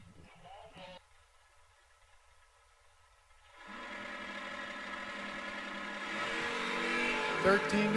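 Drag race cars at the Fall Galot 250 event launching and roaring down the strip, rising from quiet to a loud sustained engine howl that swells toward the end, with an announcer talking throughout.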